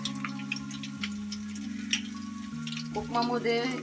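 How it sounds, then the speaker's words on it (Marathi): Garlic, mustard seeds and cumin crackle and sizzle in hot oil over a low flame, a soft steady frying hiss with small pops under a sustained tonal hum. "चांगलं जिरं तडतडू दे आणि लसूण व्यवस्थित लाल होऊ दे"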